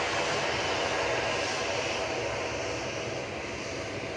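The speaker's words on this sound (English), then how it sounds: "The Singapore to Houston is taxiing out." A Singapore-to-Houston airliner taxis at Manchester Airport, its engines a steady, broad, even whine and rumble with no other sound over it.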